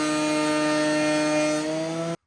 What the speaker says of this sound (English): the first board we ever planed with the Cyclone,